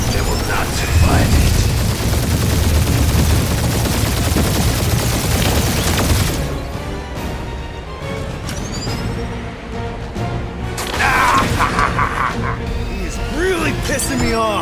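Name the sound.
weapon fire barrage, from the video game Guardians of the Galaxy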